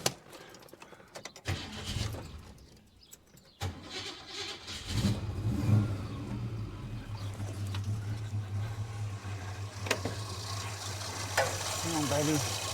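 Holden HK car engine idling after a fuel mixture adjustment, a steady low rumble that settles in after some clatter and handling noises, rising a little toward the end, close by.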